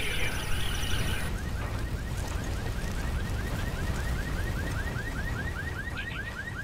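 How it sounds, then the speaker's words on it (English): A car alarm sounds in the video game Ghost Recon Wildlands, repeating a steady rising chirp at a regular rhythm over a constant background rumble, with no talk. "That car's got an alarm."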